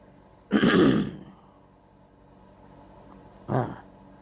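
Someone clears their throat twice, a loud rasping burst near the start and a shorter one a few seconds later, with quiet in between.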